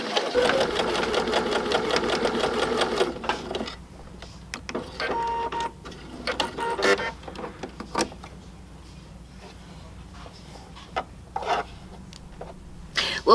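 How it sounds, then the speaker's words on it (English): A sewing machine runs a short stitch after its upper tension is adjusted, a steady, fast mechanical whir for about three seconds, followed by quieter clicks and handling noises. "So we're going to run this little stitch here real quick."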